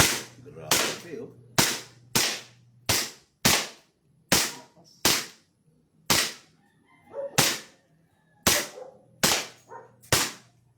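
Gunfire from an airgun-style weapon, about fourteen sharp, loud cracks in an irregular series, each shot ringing briefly with a short decay, close by and outdoors with little else audible between.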